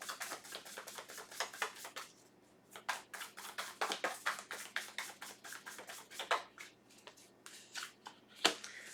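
Tarot cards are handled at close range, with quick, light, papery flicks and taps in irregular rapid bursts, a short lull partway through and a sharper snap near the end, all quiet and without talk.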